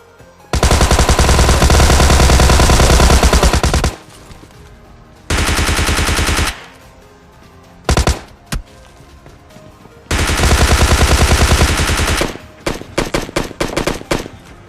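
Gunfire from the mobile battle-royale game PUBG Mobile Lite: loud sustained automatic bursts several seconds long, separated by short gaps and single shots, ending in scattered rapid pops, with no talking.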